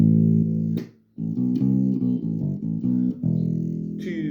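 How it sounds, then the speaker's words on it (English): A low bass guitar plays a riff of repeated notes in a steady rhythm, briefly pausing before continuing, clear and up front with nothing else playing. "This is one of the main sort of bass riffs inside it."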